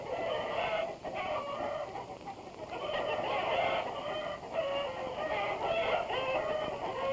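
Hens on a farm clucking in an overlapping chorus, moderately close and fairly faint, with a continuous busy cackling over a soft background and no talking.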